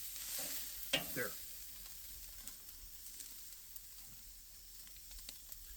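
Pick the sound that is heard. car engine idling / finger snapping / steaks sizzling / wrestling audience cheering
steaks sizzling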